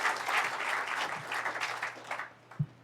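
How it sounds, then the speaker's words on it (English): An audience at a summer literary gathering gives a steady round of clapping that tapers off over about two seconds, ending with a single soft thump. "Give a round of applause for the second word of the day"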